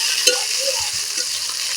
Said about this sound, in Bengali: টমেটো কুচোটা দিয়ে বেশ খানিক্ষণ নাড়াচাড়া করবো